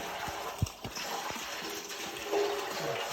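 Water from a battery-powered pump set in a cold river runs steadily into a container, a continuous near gush with a few small knocks and splashes.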